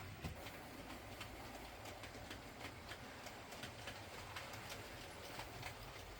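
A class 101 Super Sprinter model train climbs an incline on a layout, making a quiet, continuous rolling hum with light, regular clicks of the wheels and no voices.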